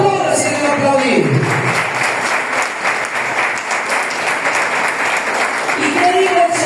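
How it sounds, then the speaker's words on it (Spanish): A church congregation claps and cheers in sustained applause filling the room, while a voice speaks over it. "Apláudase que aplaudir."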